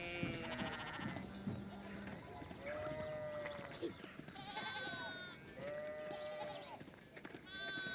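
Sheep bleat repeatedly in the medieval video game Pentiment, several wavering calls overlapping at moderate distance over a busy game soundscape with faint music.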